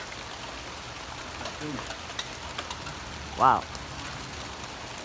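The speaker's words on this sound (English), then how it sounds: "It's raining right now." Heavy rain falls in Fresno, California, during 93-degree summer heat, a steady hissing patter throughout. One voice speaks a short exclamation partway through.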